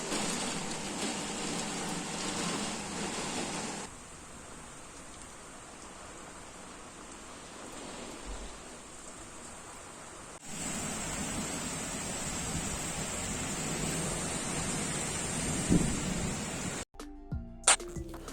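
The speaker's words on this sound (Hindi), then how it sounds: "इतनी तेज़ बारिश हुई है" Heavy rain pours down outside a home window during a sudden storm with strong winds, a steady hissing downpour that drops in level for a stretch and then swells again, ending with a few sharp knocks.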